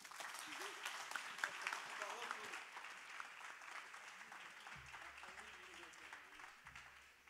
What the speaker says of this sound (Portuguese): dê o maior salva de palmas que você possa.